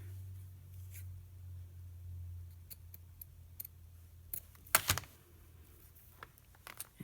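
Scissors trimming lace, a run of quiet snips that builds to a few louder, close cuts near the end, with a low hum underneath at the start.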